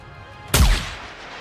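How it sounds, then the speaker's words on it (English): A single loud gunshot from the NIKKE video game, a sharp close blast with a short booming tail that fades within a second, heard alone with no talk. "A single gunshot rings out as Crow collapses to the ground."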